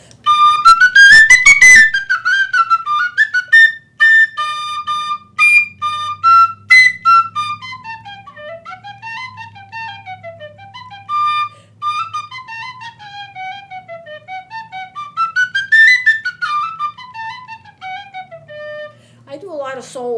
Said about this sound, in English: I do a lot of solos on the penny whistles.